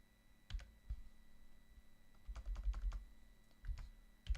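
Bursts of clicky typing on a computer keyboard, close and fairly quiet, coming in short runs with pauses between, the densest flurry in the middle and another toward the end.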